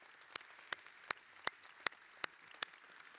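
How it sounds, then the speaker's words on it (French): Sparse, evenly spaced claps, about seven sharp single hits at a slow steady pace, sound faint and distant at the close of a conference plenary panel session. "Applaudissons-les bien fort."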